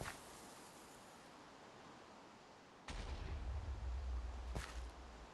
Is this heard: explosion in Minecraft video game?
yes